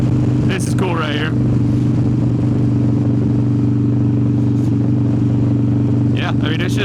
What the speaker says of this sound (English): it's just big old Harley-Davidson motorcycle. Sounds fantastic